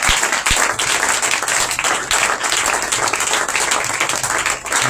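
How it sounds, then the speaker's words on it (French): Congregation at a church conference opening the Feast of Tabernacles bursting into sustained, dense applause that fills the whole stretch at steady loudness, with no speech over it. "Est-ce qu'on peut acclamer pour eux?"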